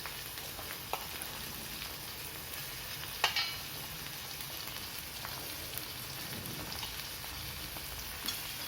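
Cashews, ginger, garlic and tomato frying in a pan at home for Veg Kolhapuri give off a steady, quiet sizzle with a few light crackles and stirring taps, no voices.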